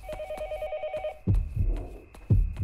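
Telephone ringing in the video game Yomawari: Night Alone, a short electronic trill of rapid repeated tones that stops abruptly, followed by dull low thumps.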